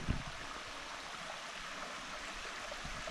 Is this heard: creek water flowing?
yes